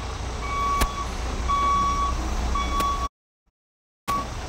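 A Class B truck backs up slowly during a CDL skills test, its steady reversing beeper repeating about once a second over a low engine rumble, then a brief silence before the beeping resumes.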